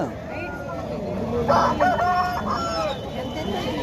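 A rooster crows once, clear and fairly close, at a busy Sunday market in Hyderabad selling country chickens, ducks, rabbits and pigeons. Crowd murmur and nearby voices run underneath.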